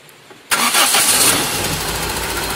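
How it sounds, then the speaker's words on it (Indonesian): A car engine with newly refitted spark plug cables cranks and catches half a second in, roaring up briefly before settling into a steady, close idle. "Nah, kita tancepin lagi dan kita akan hidupin lagi ya."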